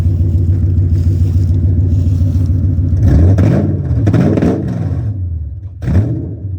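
A cold car engine idles with a deep, steady exhaust rumble, then revs up in a few quick blips before settling back down.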